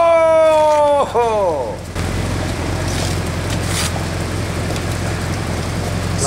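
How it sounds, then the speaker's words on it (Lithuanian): Rain falls steadily all day in Bosnia and Herzegovina, a dense, even hiss of drops that runs on after a brief exclamation from a voice at the start, close and fairly loud throughout. "lyja šiandien visą dieną"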